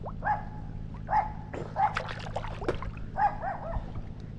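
A dog barks four times, spread across a few seconds, at moderate distance, near a canal with faint water noise in the background.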